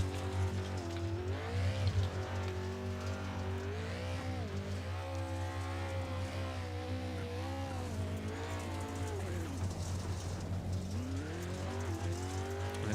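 A race car engine in iRacing howls through a qualifying lap at the Wild West track, loud and close, its pitch rising and falling steadily through gear changes and corners with no break.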